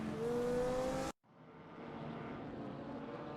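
Race car engines drone loudly as one GT4 car overtakes another at Lausitzring in a racing video game, a sustained roar that cuts off abruptly, then resumes as a steadier, quieter engine hum.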